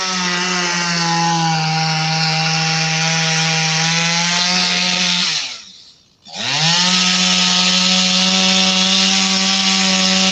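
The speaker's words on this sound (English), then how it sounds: "Out there, her and a chainsaw in her hands." A chainsaw with a worn, dull chain cuts wood loudly and close, its engine droning steadily, dropping out briefly midway, then revving back up to a sustained whine.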